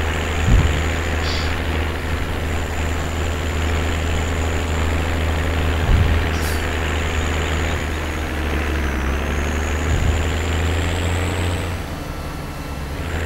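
Tractor engine in Farming Simulator 17, a steady loud diesel drone with a strong low hum, holding constant over the whole stretch with faint periodic thumps and a thin whine above.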